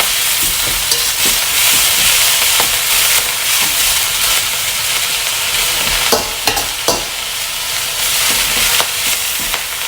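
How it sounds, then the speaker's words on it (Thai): Broccoli and other vegetables stir-fried in a pan for home-style fried noodles, a steady loud sizzle and hiss with frequent scraping stirs, continuous and close with no talk. "เราผัดนะคะจนผักเริ่มนิ่มลงแล้วนะคะ"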